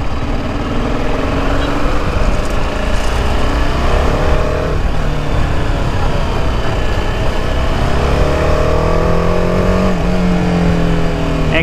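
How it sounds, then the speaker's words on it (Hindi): A TVS Apache RR310 motorcycle's exhaust drones and revs up and down at close range, with rising and falling engine pitch that stays loud and continuous throughout. "Exhaust note is awesome."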